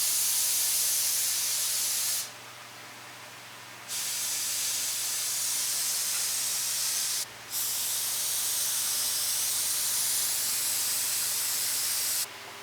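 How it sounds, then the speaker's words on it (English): Airbrush spraying paint to make a splatter effect, with folded tape held under the tip: a steady, close, loud airy hiss that cuts out briefly twice, then resumes. "I'm going to do a splatter by holding it underneath the bottom of the airbrush, right at your tip"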